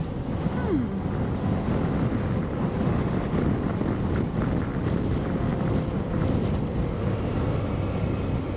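Steady, loud wind roar buffets the microphone during an adventure motorbike ride on a hilly road near Manjimup, a constant low rumbling rush without letup and with no voices.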